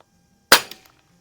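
A single sharp pellet shot from a Crosman 3622 air rifle, a crisp close crack followed by a brief fading tail and a faint second tick as the pellet strikes downrange.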